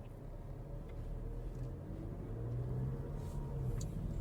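A 2024 Porsche Macan with a 2-liter turbocharged engine drives off, a low steady engine rumble with a faint rising tone heard from inside the cabin, fairly quiet and without talk.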